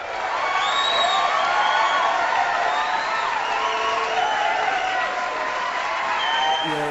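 Audience applause mixed with crowd cheering and whoops for a satirical sketch, a continuous broad roar of clapping heard throughout, fairly loud and even.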